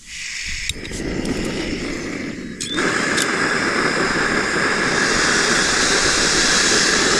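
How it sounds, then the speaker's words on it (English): OEX Hero camping stove burning outdoors in the wind on a hillside walk: a loud, continuous roaring rush that strengthens after a couple of seconds and holds steady, with a few faint clicks early on and no talking. "the stove of choice today is the OEX Hero stove"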